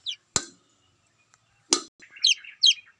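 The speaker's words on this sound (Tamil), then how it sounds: "குருவி சத்தம் கேட்கும் கைஸ்" Two sharp metallic knocks, then a quick run of bright, high sparrow-like chirps, clear and fairly close, with no talking.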